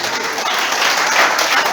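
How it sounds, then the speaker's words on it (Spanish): Church congregation applauding steadily throughout a Spanish-language sermon, a dense, continuous wash of clapping from many hands filling the room without pause. "Dale un fuerte aplauso a Cristo."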